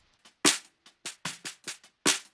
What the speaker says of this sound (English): Snare bottom sounds like this.